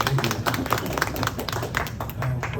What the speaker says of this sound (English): I've got the applause